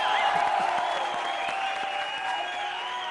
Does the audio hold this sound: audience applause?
yes